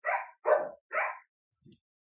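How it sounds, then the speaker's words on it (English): Dogs bark three times in quick succession, loud and close, followed by a brief faint yip or whimper, with no talking. "It's my dogs agreeing with"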